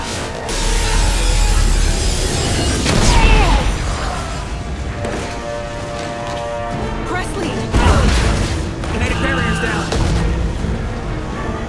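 Heavy explosions and crashing impacts rock a starship under attack in Mass Effect 2, a dense loud barrage of booms and metallic rumble with voices shouting over the chaos.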